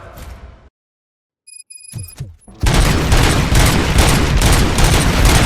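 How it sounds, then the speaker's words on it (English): Gunfire in the RoboCop: Rogue City video game erupts after a near-silent pause and a few sharp metallic clicks and thuds, then dense rapid bursts of shots blast loud and continuous. "Gunshots? What's going on?"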